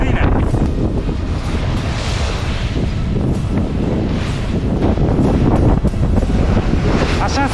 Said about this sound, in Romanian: Astăzi Drake-ul ne așteaptă cu ceva valuri și cu un pic de vânt.